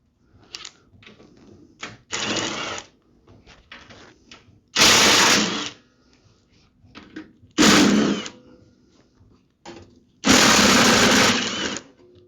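A power tool removes 10 mm bolts from a snow blower's bottom plate in loud bursts of whirring rattle, separated by quieter clinks and handling noise.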